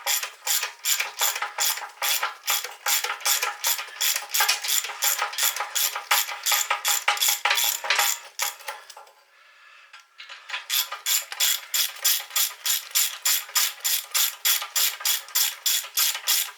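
A ratchet wrench loosening bolts on a 1978 Honda XR75 motorcycle: rapid, evenly spaced metallic clicks run close and loud, pause briefly for about a second, then resume at the same quick rhythm.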